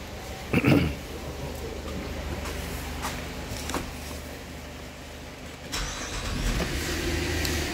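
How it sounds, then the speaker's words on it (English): A 2010 Buick Enclave with a bad alternator cranks briefly and catches, then its engine settles into a steady idle hum, with a rise in engine noise near the end. "I start the car."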